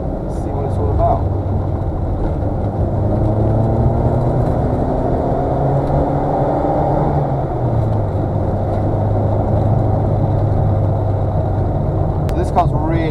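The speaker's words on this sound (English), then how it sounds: "So this car's really fun on these country roads." A 1989 Austin Mini 30 on country roads: a steady, droning engine hum with road rumble heard from inside the car, fairly loud and continuous, pitch shifting slightly with speed, with a person speaking over it.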